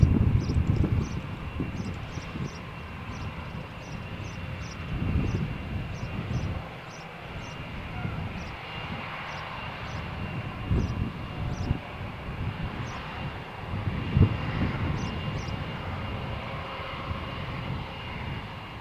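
A Eurowings airliner at Malaga Airport on a stormy morning, its engines a steady low rumble that swells and fades over a noisy outdoor background, heard from a distance with no talking.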